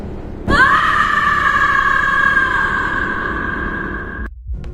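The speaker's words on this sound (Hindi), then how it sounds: "उसकी तेज चीख पूरे कॉरिडोर में गूंज उठी" A nurse's loud, sustained scream rings down a hospital corridor, one long high cry that starts abruptly, holds steady for about four seconds and cuts off, with no other voices.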